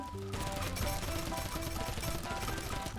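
Rapid gunfire from an FF gun in the video game Mini World: CREATA, a steady stream of shots over a dense game soundtrack without pause.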